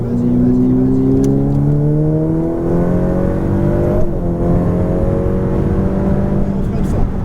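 Close, loud Ferrari F8 Tributo engine revving upward in rising whines as the car accelerates, dips briefly, then climbs again.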